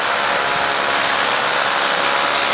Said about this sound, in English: I also need to work out what's going on with my engine.